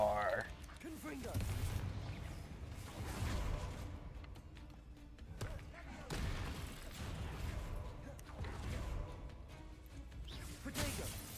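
Confringo spell explosions in the video game Hogwarts Legacy burst repeatedly in fiery cracks and booms amid combat noise, with a voice casting spells over the fight.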